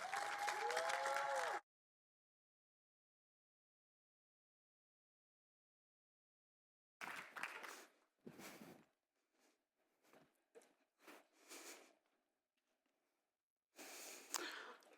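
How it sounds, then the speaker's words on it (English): An audience at a college convocation claps briefly for a student speaker, a short burst at the start, then silence, scattered soft sounds and another burst of clapping near the end. "please give a round of applause for Senior Emil Benavides."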